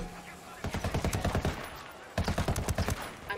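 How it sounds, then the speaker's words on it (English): Two quick bursts of automatic rifle fire in Ghost Recon Wildlands, each a rapid string of shots about a second long, fairly close, with quieter game ambience between them. "I'm opening fire."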